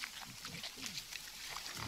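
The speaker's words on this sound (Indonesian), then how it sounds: "Babi hutan." A wild boar in the video game God of War grunts and squeals in short low bursts, close and fairly loud over a steady hiss of game ambience.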